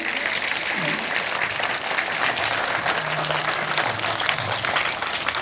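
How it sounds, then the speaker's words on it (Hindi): A school audience applauds guests at a Tulsi Pujan Diwas event, with dense steady clapping throughout and a voice briefly audible underneath. "तो जरा इन सब के लिए एक बार तालियां बजा दीजिए।"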